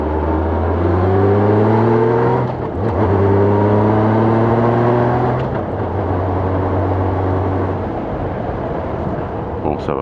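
A Royal Enfield Himalayan motorcycle on worn-out tyres takes a hard turn, its engine droning loud and close, with the pitch rising in repeated climbs and dropping as the rider eases off.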